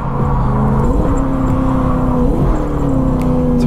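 Lexus IS200 fitted with a 1UZ V8, pulling hard in third gear on a track: a loud, close engine note climbing in pitch, dipping briefly at a shift, then rising again, with no voices.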